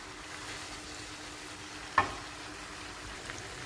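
Vegetables cooking in a pan for Filipino igado, a faint, steady low sizzle with a single sharp utensil clink near the middle and a softer tap later.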